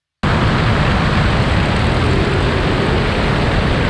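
Piper Cub ski plane engine held at power on skis, a loud, steady, broadband propeller roar that starts abruptly and holds constant throughout, close and with no voices.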